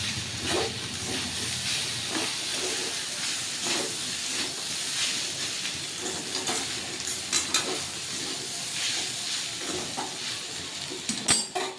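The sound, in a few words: stirring spaghetti in a pan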